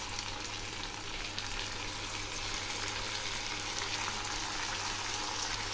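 Ginger, cumin and onion paste masala frying steadily in a pan, a continuous even sizzle with no breaks and no voices.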